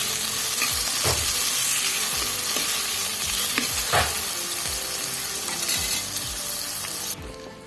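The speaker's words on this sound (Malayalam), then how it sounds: "ഇനി നമുക്ക് ഇതിലേക്ക് തക്കാളി പച്ചമുളക് ഇതിട്ട് കൊടുത്ത് ഒന്ന് മൂടി വെച്ച് നല്ല ആയി തന്നെ നമുക്ക് കുക്ക് ചെയ്തെടുക്കാം" Tomatoes and green chillies fry in ginger paste for a fish curry base: a steady, close, loud sizzle with regular scraping stir strokes throughout, easing slightly near the end.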